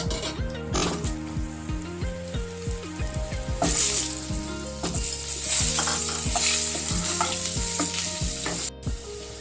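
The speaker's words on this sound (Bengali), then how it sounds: "আলুগুলো ভাজবো।" Potatoes fry in hot oil in a home kitchen, a loud continuous sizzle punctuated by repeated scraping and stirring strokes of a utensil in the pan, with no voices.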